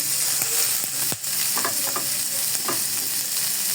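Chopped onions added to garlic in a pan for malai chicken fry with a dense, close sizzle and a few sharp stirring scrapes over a few seconds.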